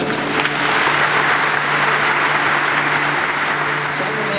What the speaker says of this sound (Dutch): Geef hem een echt applaus.